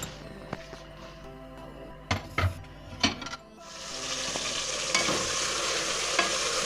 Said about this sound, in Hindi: डाल दूंगी मैं गोश्त, और इसको पहले अच्छी तरह से हम भून लेंगे